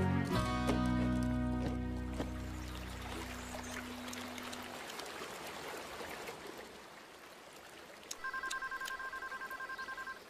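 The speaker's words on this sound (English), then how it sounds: "Yes, Molly. Speed dial works." A cartoon telephone's speed dial chirps as a short run of steady electronic beeps near the end, after a tonal music sting fades into a soft, hissy background.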